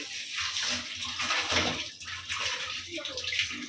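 Water rushes steadily from a newly installed tap under a pressure test at a sanitary plumbing site in Chattogram, a broad continuous splashing hiss with air sputtering in the flow, while people talk loudly over it.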